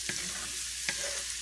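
Onions sizzling in a pan with fat left from cooking the meat, a steady close sizzle broken by two distinct spoon scrapes while stirring.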